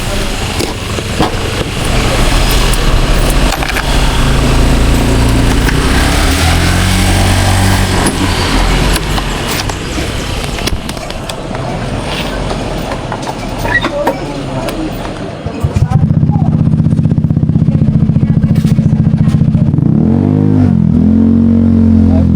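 A motorcycle engine runs close by with a loud, rough drone, shifting pitch, then settles into a steadier idle hum toward the end.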